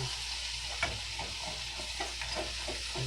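Onions frying in a pan for a steak dinner, stirred continuously with a steady sizzle and soft scraping strokes, with a few sharper knocks of the utensil against the pan.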